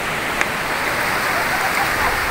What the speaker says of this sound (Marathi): अरे आला पाऊस तरी काय टेन्शन नाही.